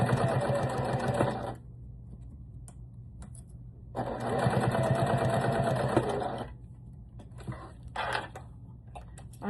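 A sewing machine stitches down the edge of a two-color leather strap, running in two long steady bursts of rapid needle chatter separated by quiet pauses with small handling clicks, close and clear, with no talking.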